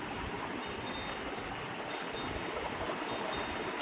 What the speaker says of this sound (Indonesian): Suara arus sungai terdengar jelas di sini.